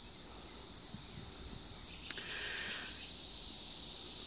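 Brood X periodical cicadas chorus in the distance, a continuous high, even whine holding steady throughout, with a faint brief chirp partway through over quiet outdoor background.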